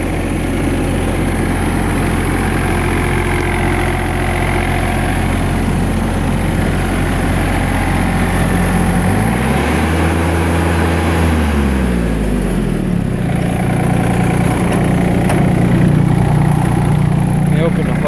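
A vehicle engine idles steadily with a low, droning hum throughout, its pitch briefly swelling and dipping midway before settling back to an even idle.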